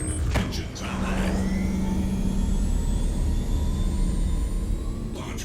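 Engines of an Aegis Avenger Titan spaceship in Star Citizen spin up with a loud, steady whine and rumble, rising tones sweeping upward over a thick roar after an opening clunk.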